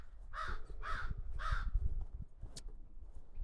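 A crow near a backyard deck gives three harsh caws in steady rhythm, faint and somewhat distant over low rumbling background noise, with no talking.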